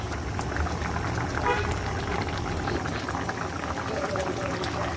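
Curry with whole green chilies and chopped coriander leaves simmering in a pot, a steady close bubbling and sizzling that continues unbroken, with no talking.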